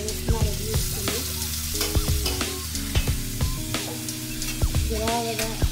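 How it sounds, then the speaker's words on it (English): Chicken frying in its own rendered grease, a close, steady sizzle with repeated stirring and clinks of a utensil against the pan. "That's frying up in the chicken grease."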